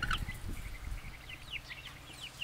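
Sussex chickens and turkeys cluck and chirp in short, repeated high calls at close range, with soft rustling and low thumps underneath.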